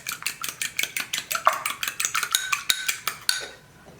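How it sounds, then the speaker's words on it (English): Rapid, evenly paced taps and scrapes of a utensil against a bowl as chocolate cassava cake batter is lightly mixed, close and crisp, with around twenty strokes before it slows and stops. "Just give that a light mix."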